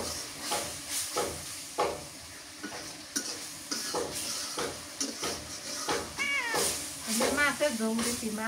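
A pet cat meows several times toward the end, rising wavering cries heard over the stirring and sizzling of frying food in a kitchen while someone talks.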